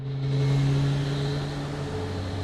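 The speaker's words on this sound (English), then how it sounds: "it's gonna sound like an engine starting over and over and over" Looping engine-start drone from an A320neo airliner in Microsoft Flight Simulator, caught in an audio glitch: a steady, loud tonal hum with layered low harmonics, one tone dropping in pitch midway, with no talk.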